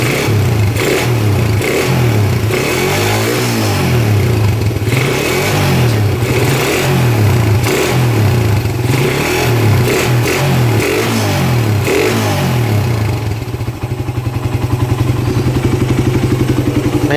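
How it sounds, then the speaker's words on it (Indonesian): A Suzuki Satria FU CBU motorcycle engine revved repeatedly in loud, close bursts of throttle with a rattly, crisp exhaust, settling into a fast steady idle at the end. "Nah, itu dia suara FU CBU."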